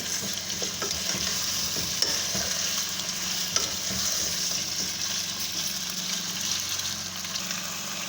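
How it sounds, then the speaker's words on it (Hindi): Chicken pieces frying in a pan for chicken korma, a steady, close sizzle with faint scraping and stirring throughout. "चिकन को इतना फ्राई करना है 1 मिनट तक कि अच्छी तरह ये अपना कलर चेंज कर लें"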